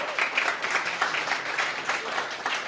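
Audience applause at a startup pitch competition event: dense, steady clapping from a sizeable crowd that fills the whole stretch at an even level, with no voice standing out above it.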